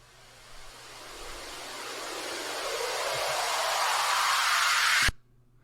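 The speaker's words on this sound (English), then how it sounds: "And then we have a white noise uplifter." A white noise sweep rises steadily in pitch and loudness for about five seconds, then cuts off abruptly, leaving near silence.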